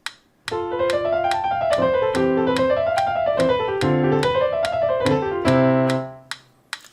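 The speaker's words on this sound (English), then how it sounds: "it's 4 notes per tick at 144" Piano playing rapid, even sixteenth-note runs rising and falling in steady groups of four, with crisp regular metronome ticks at 144 bpm marking the beat underneath.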